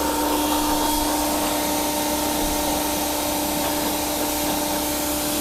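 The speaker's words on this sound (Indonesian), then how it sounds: "kita nggak usah ribet banget nyuci dengan jet cleaner ini" Hasston 3600-017 jet cleaner spraying while washing a car, a loud steady motor whine with constant hissing water spray, uninterrupted throughout.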